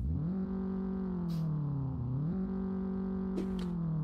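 A simulated BMW M4 idles in Euro Truck Simulator 2 with a steady, droning, humming engine note that dips and recovers slightly midway, heard continuously at a moderate level with a couple of faint clicks.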